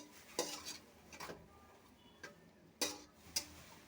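Spice paste for a hilsa fish curry with taro and potato being stirred and fried down in a pan, heard as several separate scraping clacks of the spoon against the pan over a faint background.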